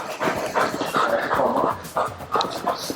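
A police K9 dog pants hard and close during bite training, with rapid, uneven breaths mixed with faint whimpers and a bit of background movement.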